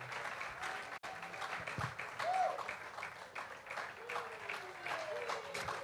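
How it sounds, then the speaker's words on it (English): Audience applause at a conference on the content creator economy as a speaker comes forward, steady clapping throughout with faint voices and whistles over it. "Please keep clapping for her as she comes forward."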